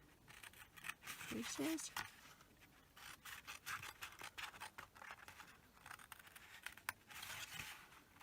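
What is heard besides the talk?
scissors cutting the bottom of a milk carton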